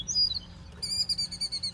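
Small birds chirp and tweet at a quiet regional airport, with bright, rapid repeated calls close by over a low steady background hum.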